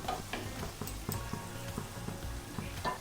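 Kathi bhaja shakarpara sweet dough sticks fry in hot oil, a quiet continuous sizzle broken by soft ticks and clinks of stirring, faint and close with no voices.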